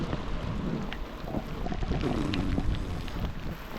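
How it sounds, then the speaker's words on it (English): Heavy rain pours down during a bikepacking ride on King Alfred's Way in Britain, a steady dense hiss with low rumbling throughout, close and continuous with no voices. "That was a downpour"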